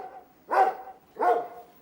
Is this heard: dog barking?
yes